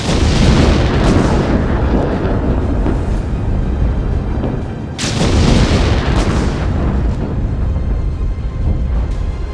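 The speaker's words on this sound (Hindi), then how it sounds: "बीते 10 दिनों से यहाँ इजराइल की मिसाइलें ऐसे ही मौत बनकर बरस रही हैं।" Israeli missile strikes pounding Beirut's Dahiya district, heard as loud, continuous booming blasts and rumbling explosions, with a fresh heavy detonation about halfway through and no voices.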